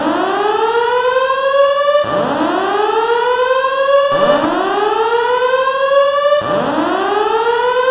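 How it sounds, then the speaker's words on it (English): A fire alarm siren inside a hotel building in Roblox, loud and close, repeating rising whoop sweeps about every two seconds with no talk over it. "fire alarms are going off"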